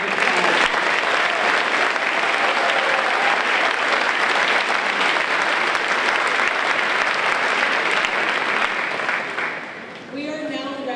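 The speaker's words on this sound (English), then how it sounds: "Please give them a final round of applause." Sustained audience applause fills a school awards ceremony honoring elementary student winners, dense and even for about ten seconds before fading out as a voice begins speaking.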